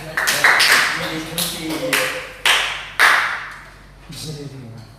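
Small classroom group applauding after a student presentation, a few loose, uneven bursts of clapping and taps, close and brief with pauses between, and voices heard faintly.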